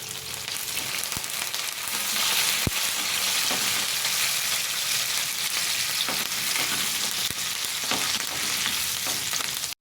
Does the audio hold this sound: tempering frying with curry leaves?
yes